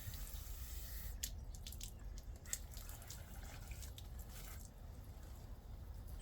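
Water drips and patters faintly from a small hose used to give a dog a drink, with scattered soft splashes over a low steady outdoor background.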